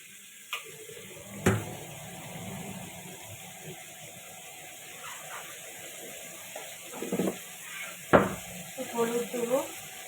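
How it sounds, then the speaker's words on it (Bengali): Vegetables lightly frying in a hot wok before making khichdi, a faint low sizzle broken by several sharp clanks of a spoon against the pan, close by. "আমি প্রথমে কড়াইটা গরম করে সবজিটা হালকা একটু ভেজে নেব"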